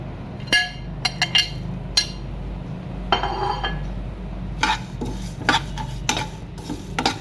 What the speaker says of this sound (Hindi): इन सब चीज़ों को हम पैन में डालेंगे।